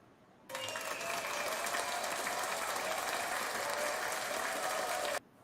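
A steady burst of crowd applause for DEFCON, the hacker conference in Las Vegas. It starts and stops abruptly and holds an even, dense clapping texture for nearly five seconds with no voices.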